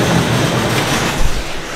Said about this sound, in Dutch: Ik film het nog 1 keer, dan komen de mooie roze treinen aan.